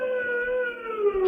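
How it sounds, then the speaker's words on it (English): A distant state prison escape siren wails in one long, steady rising-and-falling tone, carrying clearly through a quiet night with no talk over it. "And then I heard that siren in the distance"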